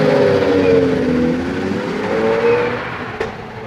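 A friend's new Ford Mustang pulling away, loud engine droning with a shifting pitch that fades slightly as the car moves off.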